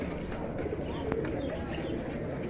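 Pigeons coo softly among the crowd at the Mirpur-1 pigeon market, low murmuring calls set within a steady din of market chatter and background noise.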